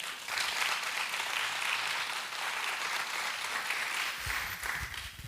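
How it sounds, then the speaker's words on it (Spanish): A congregation applauds during a church sermon, a steady, fairly distant wash of clapping from many hands that holds evenly for several seconds before tapering slightly at the end. "Démosle un aplauso al Señor."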